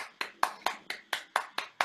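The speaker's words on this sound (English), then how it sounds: "let's give Nolan a round of applause" Eight evenly spaced claps sound close and fairly faint, a single person applauding a young cellist at a steady rhythm after an online performance class.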